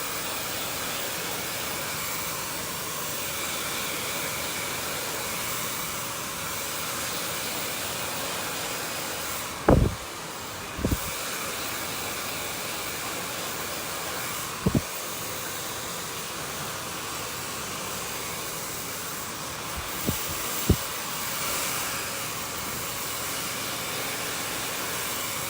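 A blow dryer runs continuously while a brush works through a layered bob haircut, a steady airy whoosh with several brief knocks and clicks of the brush and handling, no speech.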